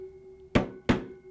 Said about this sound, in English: apply the hammer, make it nice and flat